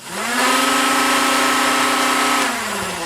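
The flywheels of a modded Nerf Vulcan blaster make a loud, steady whirring hum that spins up, holds evenly for a couple of seconds, then winds down, close to the listener.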